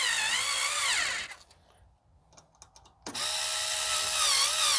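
A power drill tightening bolts while fitting an accessory to a Ride1Up Café Cruiser e-bike, two loud whirring bursts with a brief gap of small clicks and rattles between them.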